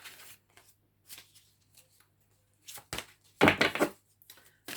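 Tarot cards shuffled in bursts of riffling and slapping, quiet at first and then a louder flurry near the end, with pauses of near silence between and no talking.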